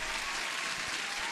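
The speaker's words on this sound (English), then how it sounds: "Judith deserves an applause too." A short, dense burst of applause from a group of listeners during a live forex trading session, steady clapping with no voices.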